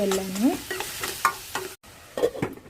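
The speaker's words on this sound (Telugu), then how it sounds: "ఉల్లిపాయ పచ్చిమిర్చి వేగింది దోరగా వేగిందండి" Sliced onions and green chillies frying in a pan with dried red chillies, heard as a soft sizzle broken by scraping stirs and brief clatters of a utensil against the pan, close up and without speech.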